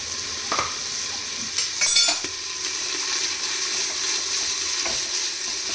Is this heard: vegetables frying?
yes